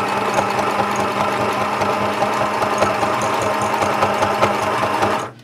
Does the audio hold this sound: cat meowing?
no